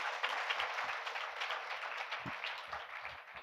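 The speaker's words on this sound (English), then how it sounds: "A round of applause again for all of our founders." A conference audience applauds startup founders, a brief, moderate wash of clapping from a seated crowd, fairly faint and without talk.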